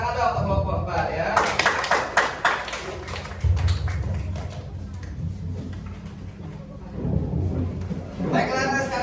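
Classroom applause for a student group, a burst of many hands clapping together, quick and dense at first and then tapering, heard under a teacher's voice talking.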